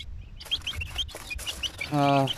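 Newly hatched chicks in a second-hand incubator give a run of high, thin peeping chirps close by, with a voice speaking briefly at the end.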